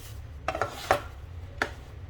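A spoon stirs flour for Sindhi khorak sweet in a pan, giving a few close, sharp clinks and scrapes against the metal over a low background hum.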